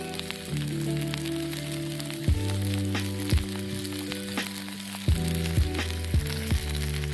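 Burgers sizzle in a non-stick frying pan on a Trangia camping stove during a hike, a steady close crackling hiss with occasional sharper pops and clinks of utensils.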